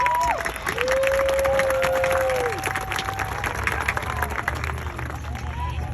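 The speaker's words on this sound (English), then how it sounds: "Yes, we can clap." A graduation audience applauds a graduating class, a steady, full wash of clapping and crowd noise with a few rising whistles cutting through, sustained for the whole stretch.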